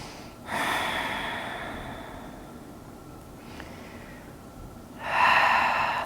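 Deep breathing during a yoga stretch: a long, airy inhale-exhale near the start, a quieter pause, then another strong breathy exhale near the end, close and soft.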